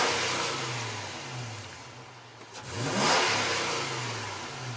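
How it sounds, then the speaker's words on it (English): A 2006 Toyota Tundra engine runs steadily, then is snapped to a quick rev that rises and falls back toward idle, heard close up with no talking. "So I'm going to do a couple snap throttles."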